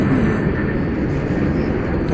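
MD-11 jet departing DFW Airport, a steady loud broadband engine roar with no break, heard outdoors from a spotting position.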